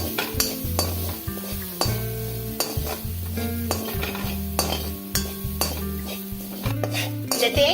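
Grated coconut roasts in a kadai while a spoon stirs it steadily, giving repeated metallic scrapes and clinks over a soft sizzle, with a low background hum.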